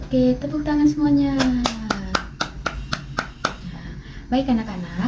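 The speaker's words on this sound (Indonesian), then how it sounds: "Oke, tepuk tangan semuanya" Schoolchildren in a classroom clap their hands in a quick burst of sharp, close claps, mixed with children's chanting voices that rise and fall across the passage.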